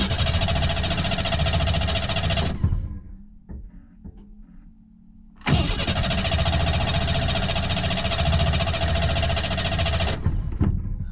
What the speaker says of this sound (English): Got a little bit of fire, and it's firing as I let off.